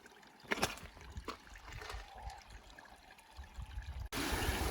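Creek water flowing and trickling along a mountain fork in Kananaskis after running underground, a steady close burble with a few brighter splashes, no talk.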